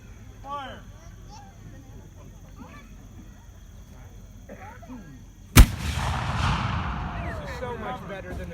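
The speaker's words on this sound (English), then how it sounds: "One more shot, Charlie." A muzzle-loading gun fires one loud, sharp shot outdoors at an 18th-century fall festival, its blast rolling and echoing for several seconds after, with faint voices in the quieter stretch before.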